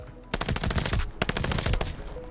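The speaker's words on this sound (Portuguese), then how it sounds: "é literalmente como se fosse uma PPSH Hipfire, só que dá pra mirar com ela e o fire rate é um pouco menor" A submachine gun fires in a video game, two long bursts of rapid automatic fire with a brief pause between them, loud and close.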